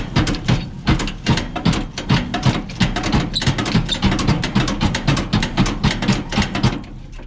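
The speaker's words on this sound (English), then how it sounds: "This is the handle that is going to shake the grates. So while I'm cranking it," Grate shaker handle on an outdoor wood boiler being cranked, a steady run of loud metallic ratcheting clanks in quick rhythmic succession that carries on throughout, close up with no talking.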